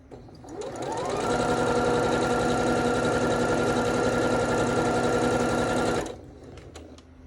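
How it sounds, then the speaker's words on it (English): Sewing machine stitching polka dot quilt fabric corner to corner for a Yuletide block, a steady loud mechanical whir that starts, runs continuously for about five seconds, then stops, with no talking. "we're sewing corner to corner right down the middle"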